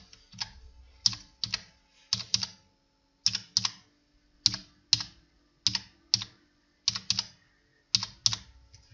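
Keystrokes on a computer keyboard as a bank card number is entered, falling in short bursts of quick, close clicks separated by brief pauses, steady and moderately loud with no one talking.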